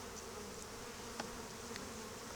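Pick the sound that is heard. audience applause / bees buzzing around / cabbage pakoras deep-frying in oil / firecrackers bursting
bees buzzing around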